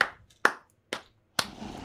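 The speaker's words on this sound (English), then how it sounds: "Okay, everybody clap your hands." Four sharp hand claps spaced roughly half a second apart, close and distinct, with a brief ringing tail after the last.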